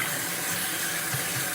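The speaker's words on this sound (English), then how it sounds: "Washing the face and gelling the hair." Water from a tap runs steadily while someone washes their face, a constant close hiss of flow with no speech over it.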